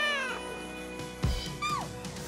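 A cat meows in a café, a couple of close, clear drawn-out meows with a soft thump between them.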